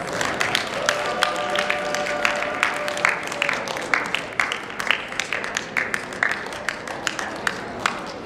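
Audience applause for the student competitors at a Poetry Out Loud recitation contest: a full round of crisp, fairly close clapping that stays dense, then thins into scattered sharper claps toward the end.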